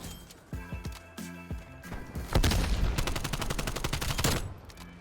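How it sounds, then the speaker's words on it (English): Gunfire in the video game Call of Duty Cold War: a few sharp single shots, then a dense rapid burst of automatic fire, loud and close, with no talking. "We're just getting a couple shots in right here."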